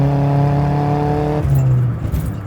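A modified Toyota Starlet Glanza V turbo engine holds a steady, loud rev with strong harmonic drone, then drops off abruptly into rougher, fluttering exhaust noise, heard up close inside the small car.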